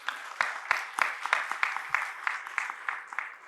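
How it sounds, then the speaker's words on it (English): A small conference audience at a business summit plenary session applauds with sparse, distinct individual claps in an uneven rhythm, fairly close and steady throughout. "May I request everyone to give a big round of applause."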